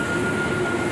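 Steady rumbling interior noise of a French passenger train running between Belfort and Lyon, with a constant hum and a faint high whine, loud and unbroken.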